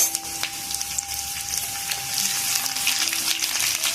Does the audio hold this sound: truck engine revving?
no